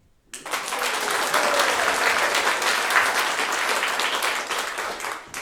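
A masked audience at a Christmas show breaks into loud applause after a brief moment of quiet, a thick, sustained wash of many hands clapping that holds steady for several seconds before easing slightly.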